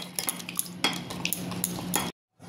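A spoon scrapes and clinks against a pot while rice for a hilsa pulao is stirred together with spice powder, salt and oil, a busy run of metallic taps and stirring that stops abruptly into silence near the end.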